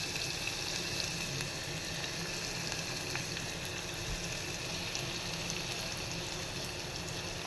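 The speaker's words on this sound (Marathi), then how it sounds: "आता हा आपण कांदा घालतो आहे" Chopped onion frying in hot oil with hing, giving a steady, soft sizzle with a faint crackle throughout and no talking.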